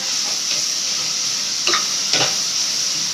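Tomato masala for a seela fish curry sautéing in a pan, giving a steady soft frying sizzle with a couple of brief stirring scrapes, close and alone with no talk.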